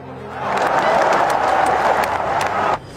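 A crowd at a political rally for Congress leader Sidhu breaks into dense, loud applause with cheering, a steady wash of clapping that swells quickly and cuts off sharply after a few seconds.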